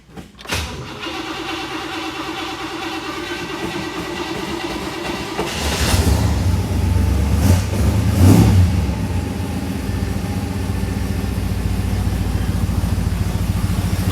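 A 1964 Chevrolet Malibu SS, cold and with a sticky choke, cranks briefly, then catches and settles into a loud, rough, rumbling idle that runs steadily close by.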